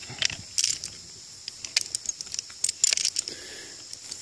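Light metallic clicks and jingles at close range as a CMC tree-climbing rope ascender clicks into place, a series of small sharp snaps with faint rattling between them.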